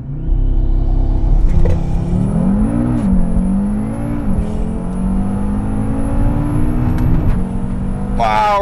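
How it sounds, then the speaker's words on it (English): Hybrid turbo Audi RS3 launching hard from inside the cabin, a loud continuous engine roar rising steadily in pitch through the gears toward 7,900 RPM, with brief dips at each shift and heavy low rumble throughout. "We're going to do another launch here."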